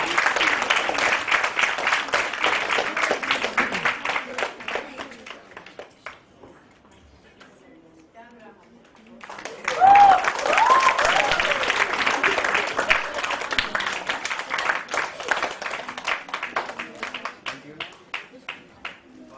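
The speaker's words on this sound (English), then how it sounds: "A big clap, a big round of applause for Abhivira." A book launch audience at a children's award ceremony claps for a young winner, with a long run of dense applause, a quiet lull, then a second loud burst of clapping that slowly tapers.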